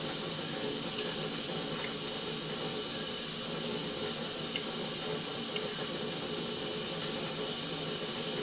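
Water rushing through an underground sewer pipe 77 feet from the access point in Cincinnati, a steady, even hiss of flow that holds constant throughout with no talk.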